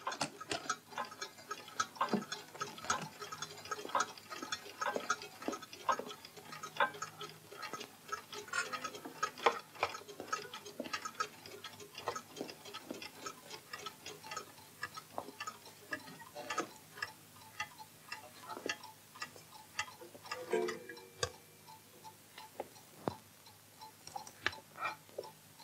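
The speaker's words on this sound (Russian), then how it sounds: "Все часы остановите." Many clocks ticking together in a clockmaker's collection, a dense overlapping patter of sharp ticks at differing rhythms, fairly close and moderately quiet, with no talk.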